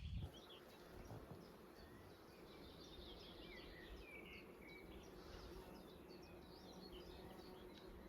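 A low, steady hum of buzzing bees fills the air outdoors in a forest, with occasional faint bird chirps scattered on top.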